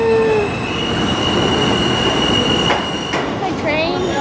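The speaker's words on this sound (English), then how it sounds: "Train's coming." A train rumbles steadily past close by, wheels squealing with high metallic whines and a rhythmic clatter, loud throughout.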